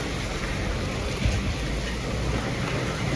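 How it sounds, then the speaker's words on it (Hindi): Heavy rain pouring down in Secunderabad, a dense and steady wash of hiss and low rumble that stays loud and continuous throughout, with no voices. "सिकंदराबाद में शनिचर का दिन है, दब के बारिश हो रही है।"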